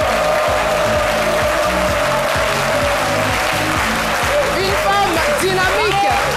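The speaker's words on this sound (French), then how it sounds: "nous allons tous nous lever pour accueillir notre invitée témoin, Madame Kwame Thérèse, que je vous demande d'applaudir très" A studio audience on a midday TV talk show applauds a female guest in loud, continuous clapping, with a voice still speaking through the first seconds and cheering rising toward the end.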